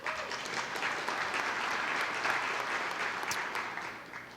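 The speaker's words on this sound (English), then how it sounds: "You can clap, it's okay." Audience at a chamber of commerce annual meeting and awards event applauding, a steady wash of clapping from a roomful of people, moderately loud and sustained.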